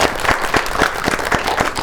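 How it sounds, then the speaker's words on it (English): Applause from a crowd, steady clapping filling the room with sharp, dense hand claps throughout. "Please, a round of applause to that guy."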